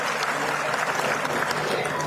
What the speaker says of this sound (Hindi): सुनीता सिंह जी के लिए जोरदार तालियां